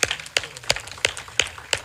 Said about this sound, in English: Can we have applause for all of our speakers today?